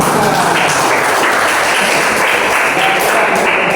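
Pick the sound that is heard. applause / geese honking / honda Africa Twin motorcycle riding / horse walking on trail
applause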